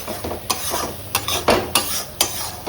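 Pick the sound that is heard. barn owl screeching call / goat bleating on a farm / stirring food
stirring food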